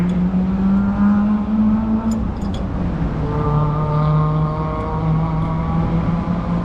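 A nearby modified import car revs steadily, its engine drone holding a sustained pitch, dipping briefly and then settling lower. The engine is loud and close, with faint clicks layered over it.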